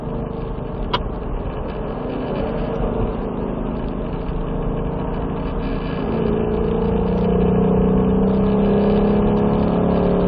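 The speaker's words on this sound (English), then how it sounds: "as we start to accelerate and shift up into fourth gear" A car on a race track accelerates hard and shifts up into fourth gear, the engine a loud, steady drone that climbs in pitch and grows louder in the second half, heard close from inside the cabin.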